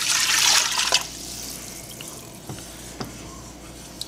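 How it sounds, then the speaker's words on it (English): Spring water, four cups of it, pours from a faucet-like stream into a pot of sautéed vegetables for a vegetable broth. The pour is steady and fairly close for about a second, then fades to quiet background with a few faint clinks. "we're going to add 4 cups of spring water"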